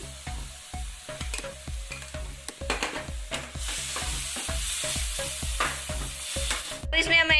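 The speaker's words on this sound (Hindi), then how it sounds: "इसमें डालेंगे विनेगर और चिकन। और अब हम इसमें ऐड करेंगे चिकन।" Chicken sizzles in a pan with vinegar while being stirred, a continuous hiss with scraping. A steady rhythmic musical beat pulses underneath throughout.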